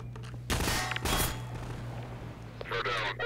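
Grenade blast and bursts of gunfire in the video game Half-Life 2, two loud broadband bursts early on over a steady low electrical hum, followed by quieter rattling action noise.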